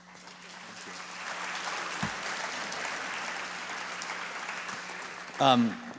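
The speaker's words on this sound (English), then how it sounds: "Wes Clark will appreciate your polite applause" Polite conference audience applause for a speaker at a social enterprise event, a moderate even wash of clapping from a seated crowd, with a voice briefly speaking over it near the end.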